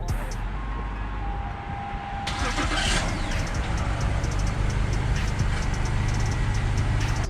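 A 2004 BMW 525i engine cranks and catches, then settles into a loud, steady idle close by, its broadband rumble running on continuously.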